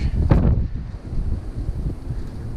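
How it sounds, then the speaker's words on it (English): Wind blows outdoors, buffeting the microphone in low rumbling gusts with a strong burst early on, then a steadier, softer roar; no voices. "Alright, nice and windy outside."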